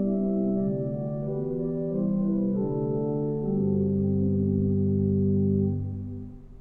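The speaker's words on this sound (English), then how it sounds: "This is a big, giant wooden flute." A large wooden flute stop on a 1930 Kimball theatre pipe organ in a big concert hall plays a slow, sustained sequence of soft, hollow tones that blend and shift between pitches, alone and steady before fading at the end.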